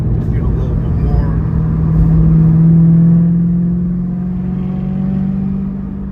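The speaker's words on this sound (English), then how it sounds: "with the Valvetronic, you get to really hear the V8 burble" A BMW E92 M3 V8 with Valvetronic exhaust valves open cruises in light traffic, giving a steady, loud low burble that swells slightly and then eases, heard from inside the cabin.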